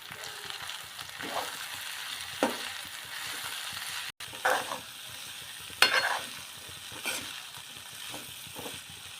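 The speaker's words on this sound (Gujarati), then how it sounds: "હલાવી નાખીશું." Red chilli and coriander-cumin powder stirred through sweetcorn chevdo in a frying pan, quiet steady sizzle broken by intermittent spoon scrapes and clinks, close by with no voices.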